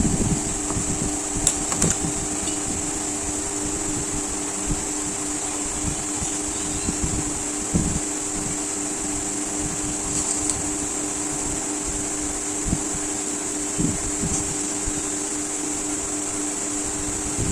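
An electric fan whirs steadily in a home kitchen, blowing on samosa masala to cool it, a constant even drone with a faint tonal hum and no voices.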